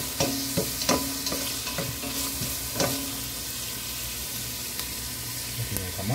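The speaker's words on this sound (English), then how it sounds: "Stir fry." Onion, garlic and ginger stir-fried in a pan for a sinigang with salmon head in miso, giving a steady close sizzle with scattered clinks and scrapes of a spatula, no talking.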